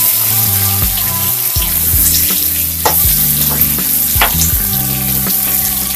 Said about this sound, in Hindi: प्याज को अच्छी तरह भून लेते हैं।